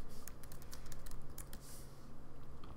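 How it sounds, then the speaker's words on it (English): Quiet, rapid typing on a computer keyboard, with irregular clicking keystrokes in close succession over a soft background hiss. "And you can start typing in here."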